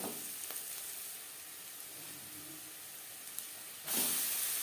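Browned onions sizzle in a pan with a dash of turmeric powder, giving a steady, soft frying hiss. A louder burst of sizzling comes near the end as more goes into the hot oil.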